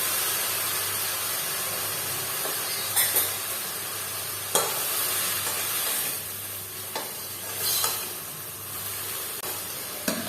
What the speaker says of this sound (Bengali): ভালোভাবে নেড়ে নেবো। এই সময় আমি সরষে গুঁড়োটা দিয়ে দেবো।